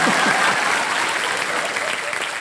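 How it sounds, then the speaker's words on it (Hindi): A studio audience claps in a short, dense burst of applause that fades slightly toward the end, with no voices over it. "तालियां मेरे लिए"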